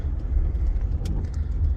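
A car engine rumbles steadily past a house, a low continuous drone without voices, rising slightly toward the end.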